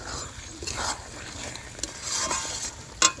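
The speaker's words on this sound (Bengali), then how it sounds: "আর একটু জল দিয়ে মশলাটা খুব ভালো করে কষে নেবো যাতে পুড়ে না যায় মশলাটা।" Spice masala being stir-fried in a pan with a little added water, cooking down for a fish curry with drumsticks and potato: a soft continuous sizzle with intermittent scraping stir strokes and a sharp clink near the end.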